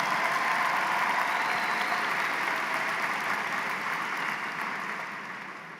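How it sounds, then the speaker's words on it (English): An evening graduation ceremony audience applauds the graduates, a full, steady sheet of clapping from a large crowd at moderate distance that gradually thins and fades toward the end. "Give them a big round of applause."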